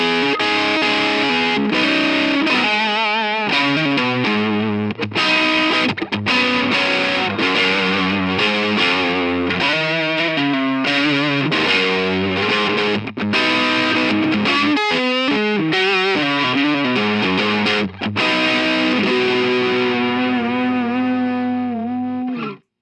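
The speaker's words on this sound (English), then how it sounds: "it's got just a really classic overdrive, pretty subtle, pretty boxy, but it's very crunchy sound" Electric guitar through the classic overdrive model of a Line 6 DM4 distortion modeler, giving a crunchy, boxy, mildly driven tone as riffs, chords and single-note runs play continuously on their own.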